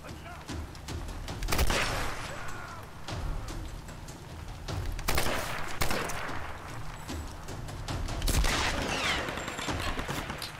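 Bursts of rapid gunfire crackle repeatedly in clusters, loud and close, with brief pauses between volleys, in the video game Tomb Raider.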